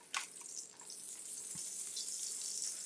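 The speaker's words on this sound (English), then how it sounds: "Sizzling up." Butter sizzles on a hot pancake griddle, a bright steady crackle and hiss running under the whole stretch, with a few small clinks and taps near the start and no talking.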